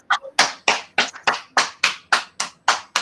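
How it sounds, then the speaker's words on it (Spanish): Clear, evenly spaced hand claps, roughly three per second and loud and close, applauding law graduates during a virtual swearing-in ceremony. "Y el aplauso para ustedes también"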